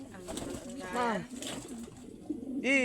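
Pigeons coo in soft, rolling calls as they enter their loft in Macabebe, the cooing near and fairly quiet, with a person speaking intermittently over it.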